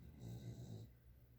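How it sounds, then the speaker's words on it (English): A dog snores softly indoors, one slow drawn-out snoring breath swelling and fading within a quiet room. "I don't know if you can hear the dog snoring."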